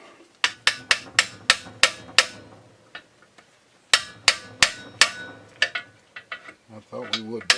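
A hammer taps out a bushing from an 80LP trailer brake actuator on a 2009 Ranger boat trailer, sharp metallic strikes in two quick runs of about seven blows each, then softer, irregular knocks close by.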